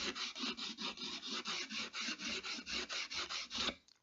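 The back of a quarter-inch chisel is rubbed on a sharpening surface in a quick run of even, rhythmic rasping strokes, about four per second, close and dry, stopping abruptly.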